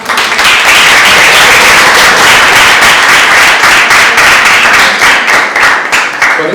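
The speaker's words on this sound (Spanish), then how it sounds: "Aplausos" Loud, close applause from a first-year architecture class audience in Concepción fills the hall with sustained rapid clapping and sharp individual claps for over six seconds.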